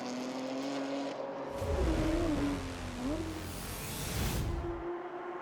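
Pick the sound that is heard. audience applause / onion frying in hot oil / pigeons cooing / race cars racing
race cars racing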